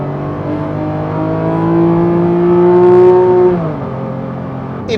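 A Porsche GT3 RS engine revs hard through first gear toward its 9,000 rpm redline, the loud rising wail climbing steadily before dropping sharply as the throttle lifts, heard from inside the car.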